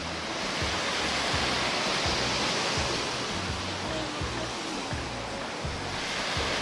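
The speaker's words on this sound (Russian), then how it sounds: "Здесь волны хорошие, такие классные, красивые." Ocean waves break on the beach at Port Launay in the Seychelles, making a continuous, full roar of surf with rhythmic low swells, close and loud, with no voices.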